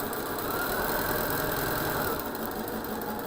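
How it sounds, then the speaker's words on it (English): Sewing machine stitching a Hunter's Star quilt block, a fast steady mechanical whir running continuously close by, with no speech. "I'm sewing right up to that one stitch over."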